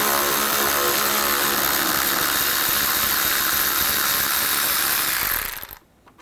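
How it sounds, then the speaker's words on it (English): A ratchet with a 10mm socket works the headlight mounting bolts on a 2011-15 Kia Sorento, giving a steady, dense mechanical whirring and clicking close by that runs without a break for about five seconds before cutting off. "Use a 10mm socket."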